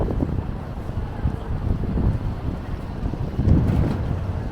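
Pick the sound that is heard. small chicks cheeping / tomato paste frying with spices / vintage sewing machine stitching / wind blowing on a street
wind blowing on a street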